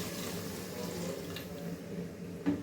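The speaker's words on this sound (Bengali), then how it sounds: "ঝোলের জন্য পানিটা দিয়ে দিচ্ছি।" Water poured into a cooking pot of taro-root (kochu) curry for gravy, a steady close splashing fill that runs unbroken with a brief louder splash near the end.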